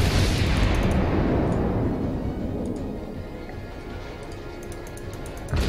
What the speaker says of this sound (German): gehen die Schüsse von der Wyoming krank auseinander